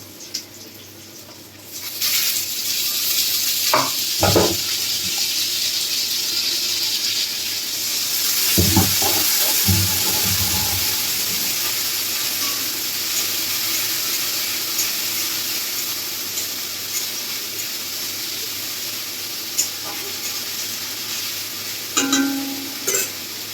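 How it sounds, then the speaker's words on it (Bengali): Garlic and ginger paste sizzle and spit in hot oil in a pan, a loud continuous frying hiss with a few clinks and stirring knocks, no talk. "রসুনটা প্রায় একটু লালচে ভাব চলে এসেছে। এর মধ্যে আমরা দেবো আদা বাটা"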